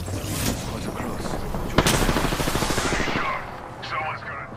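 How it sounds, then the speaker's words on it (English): Gunfire in a shooter video game crackles in dense bursts with a sharp louder shot midway. Game voice lines and effects sound alongside it. "Getting shot at."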